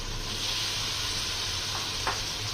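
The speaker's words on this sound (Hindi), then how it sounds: "अब इसके अंदर डालेंगे बैंगन कटे हुए" Cut eggplant goes into a pan of potatoes already frying with spices for aloo baingan sabzi. A steady, close sizzle hisses throughout, with a couple of brief soft clatters near the end.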